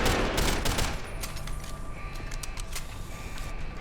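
Gunfire in the video game Deus Ex: Human Revolution Director's Cut: a dense, loud burst of rapid shots at the start that thins out into scattered cracks and ringing tails before fading.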